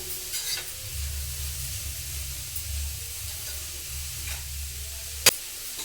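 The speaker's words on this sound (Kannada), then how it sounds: "ಆದಷ್ಟು ಸ್ಟವ್ನ ಮೀಡಿಯಂ ಫ್ಲೇಮಲ್ಲಿ ಇಟ್ಕೊಂಡೇ ಕ್ಯಾರೆಟ್ನ ಚೆನ್ನಾಗಿ ತುಪ್ಪದಲ್ಲಿ ಹುರ್ಕೊಬೇಕು" Grated carrot frying in ghee over a medium flame, stirred steadily, gives a soft continuous sizzle with scraping stirs and a sharp clack near the end, with no talking.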